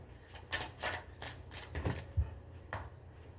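Tarot cards are shuffled by hand in a series of quick riffling bursts and soft slaps, close and fairly quiet, with no voice over them.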